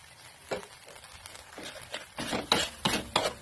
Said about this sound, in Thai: คนพริกแกงให้ละลายครับเคี่ยวกะทิ ให้แตกมัน